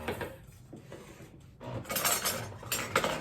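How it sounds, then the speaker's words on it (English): A container of strawberry filling is opened in a kitchen, with a burst of plastic crinkling and clicks near the end after quieter handling noises. No one speaks. "So now I'm just gonna go ahead, open up my strawberry filling."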